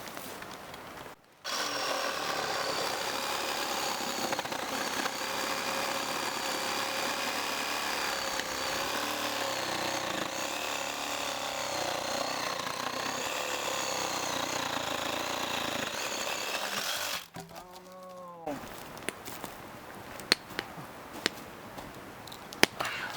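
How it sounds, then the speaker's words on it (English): A battery-powered Sawzall reciprocating saw cuts through wood on a mountain trail, its buzzing drone running steadily for about fifteen seconds before stopping, followed by quieter scattered knocks and rustles. "it's real easy to keep a battery and a sawzall and just chop them down real quick"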